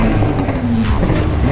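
Porsche engine revving hard in the Need for Speed racing game, a loud continuous buzzy roar with shifting pitch and no talk over it.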